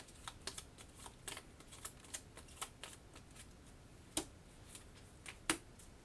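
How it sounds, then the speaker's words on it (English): Cards for the Kingdom Death: Monster board game being shuffled at close range, a run of soft, irregular riffling clicks and slaps with a couple of sharper snaps near the end. "Let's go ahead and shuffle these up."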